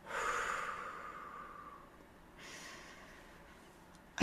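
A long, full exhale during a guided breathing meditation, soft and breathy up close, then a second fainter breath and a brief sharp sound at the end.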